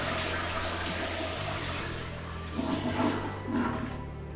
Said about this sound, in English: We need to drain the tank, so flush your toilet.